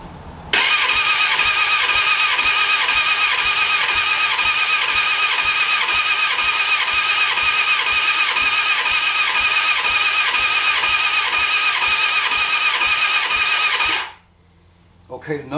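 A Suzuki Katana 750 motorcycle engine cranks with the throttle wide open and the clutch tied off during a compression test, a loud, even starter whir with rhythmic chugging pulses for about thirteen seconds before cutting off abruptly.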